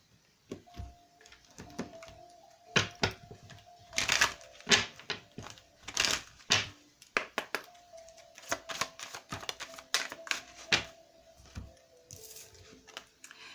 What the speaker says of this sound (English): I'm going to pick some oracle cards for you guys.